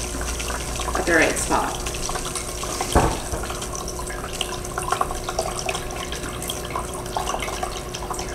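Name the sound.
water poured into a groundwater simulator reservoir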